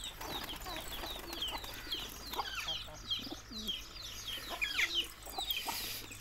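A hen clucks softly in a cage with her newly hatched chicks, whose thin high peeps chirp continuously and close by.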